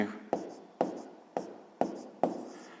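Five evenly spaced pen strokes, each with a scratchy onset that trails off, as numbers are written by hand on paper during a sixth-grade maths exercise; close and fairly quiet with no talking.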